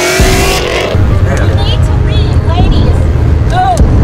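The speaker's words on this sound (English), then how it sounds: "my exhaust is too loud." A tuned Subaru running E85 fuel roars with a loud, raspy exhaust that stays steady and close throughout, with people talking over it.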